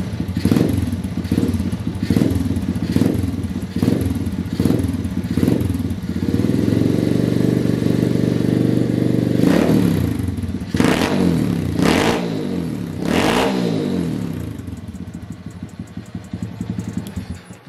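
Moped engine running after a hard start following six months of storage, first a rhythmic pulsing idle, then a steadier drone with several sharp revs, close and loud, fading toward the end.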